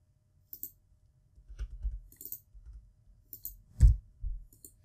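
Several sharp, quiet computer mouse clicks spaced irregularly in a silent room, used to hit cancel inside Autodesk Inventor's tube and pipe tools, with faint handling thumps between them.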